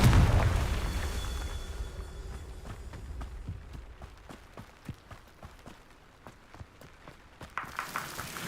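Confringo explosive spell in a Hogwarts Legacy video game: a heavy blast booms at the start and rumbles away, followed by a string of sharp, evenly spaced impact thuds and another burst at the end.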